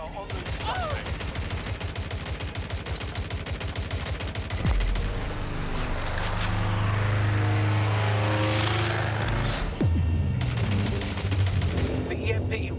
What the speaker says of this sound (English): Drones are en route suspect.